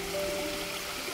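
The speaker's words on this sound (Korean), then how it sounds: "계곡에 물이 흐르고 폭포가 생겼습니다" Steady rushing of a stream flowing through a rocky valley below a waterfall at Pokoam on Guljeolsan, Goseong, a continuous broad wash of sound with no pauses or voices.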